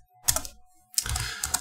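Fingers type on a computer keyboard in two short bursts of rapid clicking keystrokes, close and distinct, separated by a brief pause.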